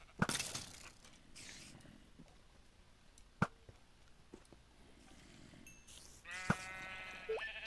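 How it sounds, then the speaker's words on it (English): Sheep bleat in a video game amid other game effects, with several short bleats, one near the start, and a clearer bleating toward the end over a low ambient bed with sharp clicks. "Look out, sheep!"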